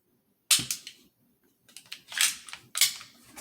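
A magazine pops out of a Walther P22 pistol with sharp, close metallic clicks and a short clattering snap, a few distinct transients with no talk.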